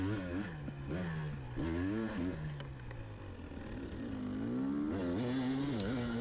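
Four-stroke dirt bike ridden on trails, the engine revving up and down in repeated rising and falling surges, close and fairly loud, with clattering in the background.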